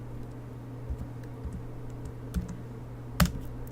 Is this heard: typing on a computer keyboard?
yes